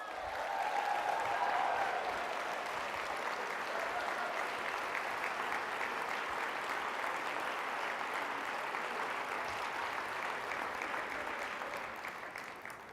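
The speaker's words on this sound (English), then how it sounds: "Give yourselves a round of applause." A large audience applauds steadily and evenly for about twelve seconds, with a dense wash of clapping that holds at a constant level and tapers only slightly near the end.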